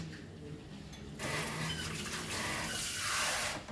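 A small splash of water poured into a pan of Goan snake gourd bhaji with coconut, a soft pouring and sizzling wash rising after a quiet start and holding steady, close by.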